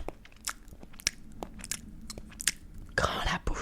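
Close-up ASMR mouth sounds of food being bitten and chewed, with sharp crunchy bites and moist chewing clicks at an uneven pace, ending in a louder crackling burst, no clear talking.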